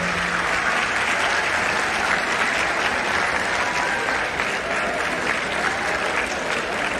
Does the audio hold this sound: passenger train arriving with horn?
no